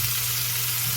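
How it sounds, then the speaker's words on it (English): Onions and garlic sautéing in a pan make a dense, even sizzle that holds steady and loud for a brief moment, with no voices. "Okay, we're gonna add the onions. And together with the garlic,"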